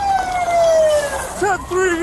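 A stolen police car's siren wails in long falling then rising sweeps as the vehicle speeds off, loud and close, with voices shouting over it.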